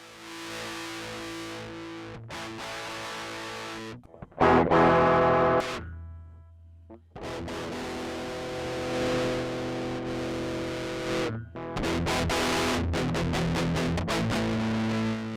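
An electric guitar played through a Big Muff distortion pedal gives thick, sustained fuzzy chords and notes, with a couple of brief pauses and a quieter low passage between strummed bursts, heard alone with no talking.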